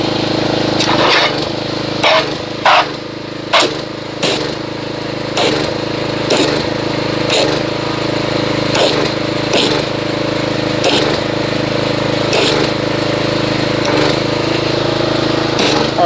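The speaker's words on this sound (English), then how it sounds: "I'm going to agitate the soap with a pressure washer, and we'll see what kind of foamage it gives." A pressure washer engine drones loud and steady while agitating Mystic Snow Foam car wash soap, with faint regular clicks and knocks over the continuous motor noise.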